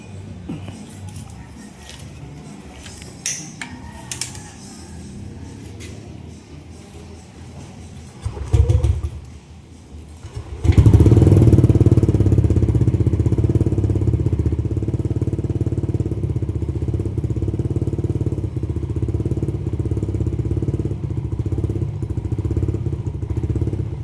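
Yamaha Nmax V2 scooter engine starting up after a sensor was refitted during a home-service check for an error 12 fault, then idling steadily and loud, close by, after some handling noises.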